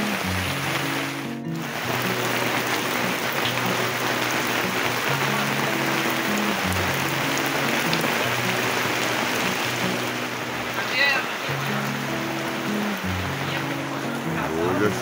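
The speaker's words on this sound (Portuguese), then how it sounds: "Hoje a chuva pegou aqui" Steady, loud outdoor rain falls at a detectorism meetup in Mafra, Santa Catarina, a continuous hiss throughout with a low droning engine-like hum underneath and a brief sharp knock near the start.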